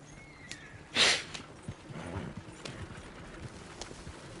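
A horse in Red Dead Redemption 2 gives a sharp snort or whinny burst, then hooves clop softly in a loose rhythm, close by and fairly quiet against a low background.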